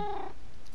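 A cat purrs in the Minecraft video game, a brief, soft, low purr alone for under a second.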